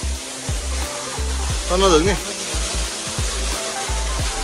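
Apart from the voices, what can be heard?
waterfall at Kageswori temple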